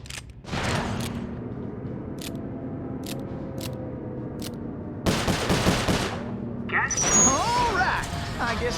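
Rapid bursts of gunfire in the Sly Cooper 4 video game ring out, broken into sharp crackling volleys that swell louder toward the end, mixed with game voices and music.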